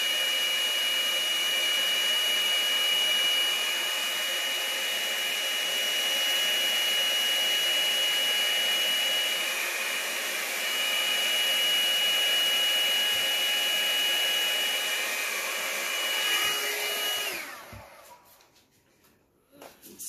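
A hair dryer set on cool and low blows white paint across a pour painting. It makes a steady, close whir that cuts off near the end, followed by faint handling noises.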